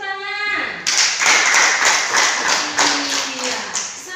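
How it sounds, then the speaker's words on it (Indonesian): Students in a classroom break into brisk clapping after a short musical tone fades, the claps coming in uneven bursts with some tapping and thumps mixed in, fairly close and steady to the end. "Bagus, tepuk tangan."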